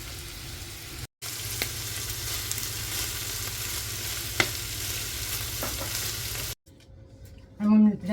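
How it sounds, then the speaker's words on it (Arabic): Chopped onion and garlic fry in a pan and are stirred now and then, giving a steady close sizzle with scraping spoon sounds and a brief pause. The frying drops away near the end. "ودابا غادي نزيد واحد البصيله نشلضها هي والثومه"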